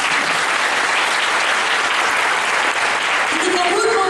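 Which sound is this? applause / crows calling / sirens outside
applause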